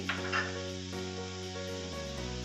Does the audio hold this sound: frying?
yes